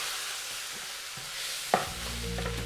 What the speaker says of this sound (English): So give it all a stir now so we can flip that beef.